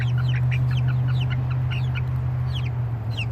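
About three-week-old silkie chicks cheep and cluck in a busy overlapping chorus of short high chirps, steady over a constant low electrical hum, with no voices.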